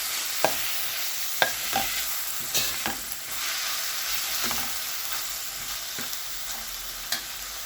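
Tomatoes, green chili, coriander and mint sauté in a pan for an egg curry, with a steady sizzle and several sharp stirring scrapes at irregular intervals, close and clear with no talking.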